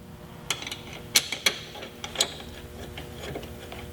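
A 5/16 socket head cap screw is started into a Carolina Metal Masters rear grab handle on a Jeep JK, giving a handful of close, sharp metallic clicks and ticks at irregular intervals over quiet background.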